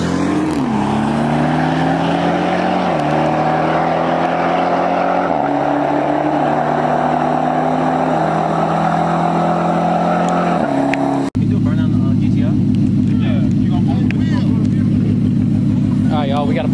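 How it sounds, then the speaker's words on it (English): A 2020 Nissan GTR and a modified Jeep Trackhawk drag racing, loud engines roaring and climbing through repeated gear shifts nearby, then a sudden cut to a lower, steady droning engine sound. "we got GTR versus a Trackhawk. This should be a really good race"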